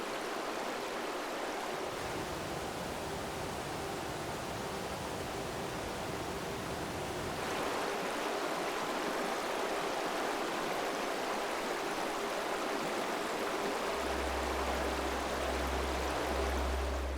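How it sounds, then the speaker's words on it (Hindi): Rain-swollen Himalayan mountain streams rushing after a heavy downpour, a steady broadband roar of fast water that holds close and even throughout, with a low rumbling swell building in the final seconds. "तेज बरसात से कुछ ही देर में यहां के नदी नाले उफन आते हैं"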